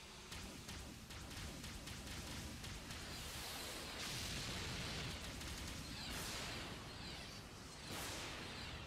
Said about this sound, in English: fire all the lasers!